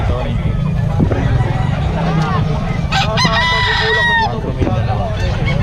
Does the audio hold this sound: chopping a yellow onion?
no